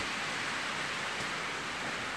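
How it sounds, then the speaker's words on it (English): Light rain falling outdoors makes a steady, even hiss of fine drops on surfaces, continuous and unbroken throughout, with no voices over it. "It's trying to rain on me a little bit."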